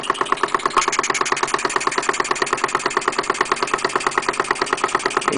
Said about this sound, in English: If I add this little piece of pipe in here, which is just a little piece of 1/2 inch pipe